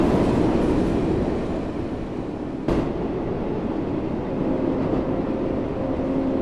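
A Class 484 electric train runs through Smallbrook Junction in a railway simulation, a steady rumbling cabin drone with rail noise and a sharp clunk partway through, continuous and close.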